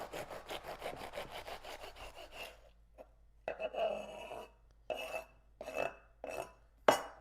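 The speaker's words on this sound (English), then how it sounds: "With a serrated knife, just cut down in a straight line at that inch and a half spot on the artichoke." A serrated knife sawing straight down through the top of an artichoke, heard as several rough, scraping strokes in short bursts with pauses between, close and moderately loud after a brief stretch of rapid rasping.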